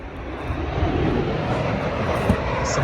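A fixed-wing airplane passes overhead while taking off, a steady broad roar heard from outside a Jaguar S-Type.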